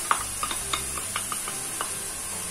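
Tomato goes into browned onions in a hot pan, giving a steady sizzling hiss broken by scattered light clicks and scrapes of stirring, close and without voices.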